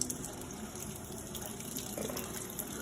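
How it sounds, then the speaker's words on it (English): Soup liquid pours out into a kitchen sink in a steady, faint gushing wash of water, with no voices. "This is a proper way to drain a soup."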